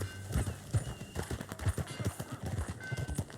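Horse hooves clip-clopping at a steady riding rhythm in the Red Dead Redemption 2 video game, close and continuous with a brief whinny-like sound and faint game ambience.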